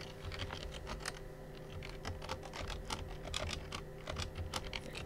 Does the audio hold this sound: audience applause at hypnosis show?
no